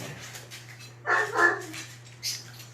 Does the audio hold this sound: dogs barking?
yes